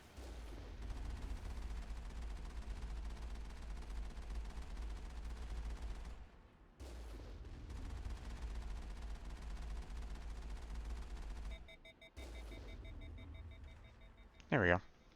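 Facility turrets fire steadily in the video game Mass Effect, a continuous low rattle broken by brief pauses, with beeping near the end and talk over it.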